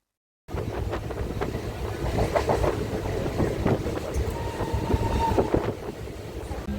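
A Howrah South Eastern line train pulls away, giving a steady low rumble with rhythmic wheel clatter and a brief tonal whine partway through.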